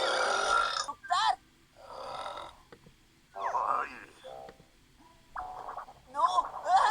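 Cats burp in a compilation, a string of separate croaky, gargling burps about a second each with short pauses between, close and fairly loud, some overlaid by voices.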